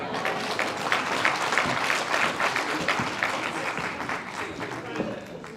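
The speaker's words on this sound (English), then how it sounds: "Another round of applause for her." Audience applause at the launch of Kenya's Blue Economy Strategy, a steady, dense clapping from a crowd that holds for several seconds at moderate loudness and eases slightly near the end.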